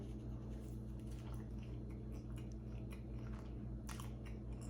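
Close, crunchy bites and chewing into a blueberry cream cheese waffle at breakfast, a steady run of moist crunches and squishes with no talking.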